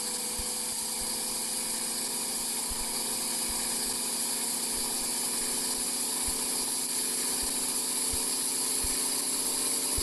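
Upgraded car engine idling in a car parking video game, a steady, continuous droning hum with faint rhythmic low pulses, constant in level throughout and with no talking.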